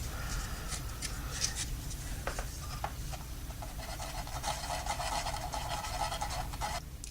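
A sanding sponge rubs over plastic parts of a Revell 1:48 F-15E Strike Eagle model kit, a close, continuous raspy scrubbing with quick back-and-forth strokes and brief pauses.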